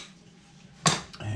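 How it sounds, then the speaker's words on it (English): A metal lid set onto a pot of liquid at a low boil on the stove, one sharp clatter followed by a softer settling clink, close by against quiet kitchen background. "And I'm going to put a top on it."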